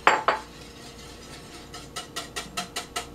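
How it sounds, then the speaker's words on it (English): Milk being whisked into eggs in a bowl, a couple of clinks followed by a quick regular series of metallic taps against the bowl. "just stir that in or whisk it in or beat it in with your hand mixer"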